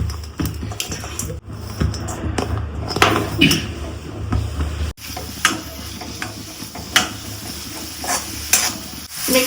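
Chopped vegetables, capsicum among them, stir-fry in a little oil for veg paneer momo filling, a steady close sizzle broken by scraping stirs and occasional spoon taps against the pan.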